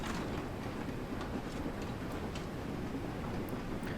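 A freight train in Train Sim World 2 rumbles along at night on the run from Mold Junction to Edge Hill, a steady dense low roar with faint rhythmic ticking of wheels, continuous and close.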